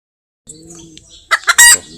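After a short silence, a nearby hen breaks into loud, excited clucking, rising to a few sharp, strained calls of the kind that follow laying an egg.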